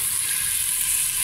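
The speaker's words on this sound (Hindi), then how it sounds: "अभी हम इसको भून फ्राई कर लेते हैं अच्छी तरह" Meat for nihari fries with Shan masala in a hot pan, giving a steady, dense sizzle that holds level and close throughout, with no voices.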